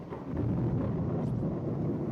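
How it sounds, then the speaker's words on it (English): In the horror game Corpse Party: Blood Covered, a deep, sustained rumble of thunder rolls over a steady wash of heavy rain inside a dark school building, loud and without voices. "As the thunder and rain grow in intensity,"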